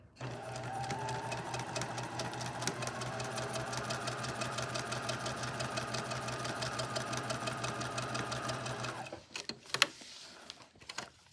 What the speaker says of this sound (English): I'm going to make a bonus triangle by stitching about 1/2 inch from that original stitched line